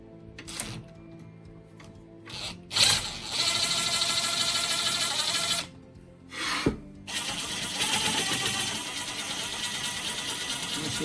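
An impact wrench running a Dr.Roc adapter screws up a scissor jack in sustained loud mechanical bursts, with short trigger pulls and pauses between the longer runs, close to the listener.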